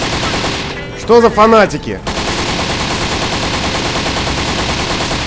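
Gunfire in the video game Postal 3 rattles as a steady, dense stream of rapid shots, with someone briefly speaking over it near the start.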